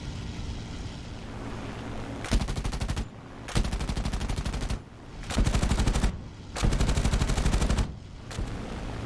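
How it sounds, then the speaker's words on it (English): P-51 Mustang machine guns firing in several loud rapid bursts of a second or so each, separated by gaps filled with steady aircraft engine drone. "He still approached and fired a short burst."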